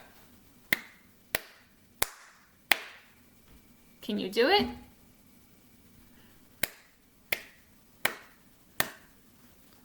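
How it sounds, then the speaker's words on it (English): Hands clap a short rhythm at a children's worship session, about five sharp claps in sequence, then a brief spoken question, followed by another run of four or five crisp claps, close and distinct. "I'm going to clap a rhythm, and I want you to try and clap it back to me"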